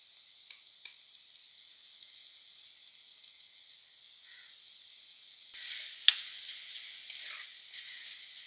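Masala with curry leaves and a little salt sautés in a pan for a fish curry, a steady soft sizzle that swells louder partway through with a sharp clink of stirring.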